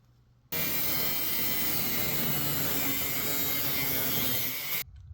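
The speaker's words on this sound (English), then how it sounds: "So I'm going to cut some strips of sheet metal." Tool cutting strips of 18 gauge sheet metal, one continuous loud harsh grinding rasp of about four seconds that starts and stops abruptly after near silence.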